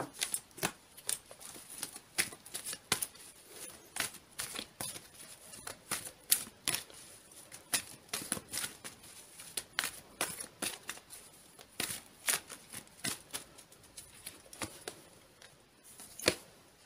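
Tarot cards being laid out and handled on a table in a reading, giving a steady run of quiet, crisp, snapping clicks and flicks, close up, throughout with no talk.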